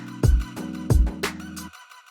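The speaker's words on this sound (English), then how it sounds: "But with the ping pong on, it just adds more details." A music loop with punchy low kicks and a bright clap, run through Ableton's ping pong delay so the echoes bounce back and forth, playing alone for about two seconds before the tail cuts off.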